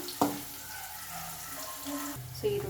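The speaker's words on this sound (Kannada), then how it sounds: "ಇವಾಗ ಇದು ಚೆನ್ನಾಗಿ ಈರುಳ್ಳಿ ಫ್ರೈ ಮಾಡ್ಕೊಳ್ಳೋಣ" Onions frying in oil for a pumpkin palya, a soft steady sizzle close by with a couple of clunks from stirring, and a brief voice in the background.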